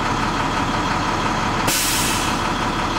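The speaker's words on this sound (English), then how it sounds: "listen for my governor to kick out, which tells me that my air tanks have reached capacity and the compressor is shutting" A truck's air compressor governor kicks out once the air tanks are full, a sudden loud burst of hissing air cutting in over the steady rumble of the idling engine.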